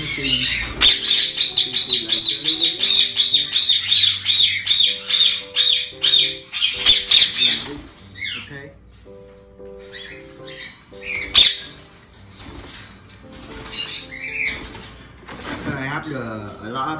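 Parrots in a breeding aviary squawk in a loud, rhythmic run of harsh calls, followed by scattered chirps and rustling with a person talking nearby.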